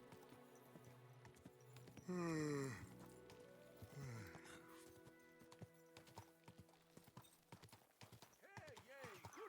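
Rhythmic horse hooves clip-clop at a steady pace amid game sounds and music in Kingdom Come: Deliverance II, with a brief louder burst partway through and a voice speaking.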